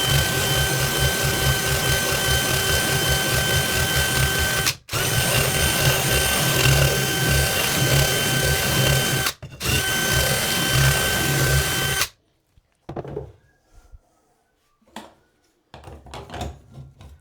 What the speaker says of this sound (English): It's gonna take more grinding.